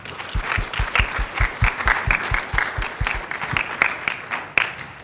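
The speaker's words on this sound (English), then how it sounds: "I'd like to get another round of applause for all the speakers today" An audience at a rangeland ecosystem conference session gives the speakers a lively round of applause, with dense, close clapping and a rhythmic thumping pattern running through the whole stretch.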